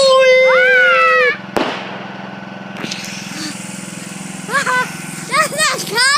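New Year's fireworks are set off nearby, with whistling, rising shells, a sharp crackling burst and a low steady engine-like rumble underneath.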